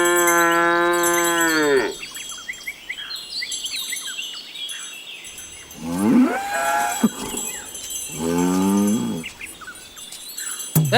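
A household cow moos in three drawn-out, deep calls, loud and close, with faint bird chirps and rural ambience filling the gaps between them.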